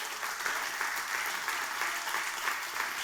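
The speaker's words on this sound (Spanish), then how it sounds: "un aplauso a Dios." A church congregation claps steadily in a continuous, even round of applause, heard at a moderate distance with no voices standing out.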